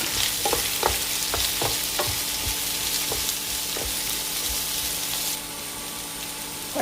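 Onions sizzle in hot oil with garlic in a pan, a dense, steady frying hiss under occasional faint stirring ticks, close and constant throughout.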